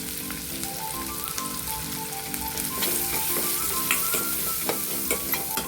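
Onion, turmeric and chilli fry in hot oil, a steady close sizzle with soft stirring scrapes that grows slightly louder partway through, with no voices.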